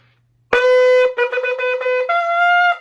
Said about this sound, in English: This is a ram's horn shofar. You blow in the tip and it sounds like this.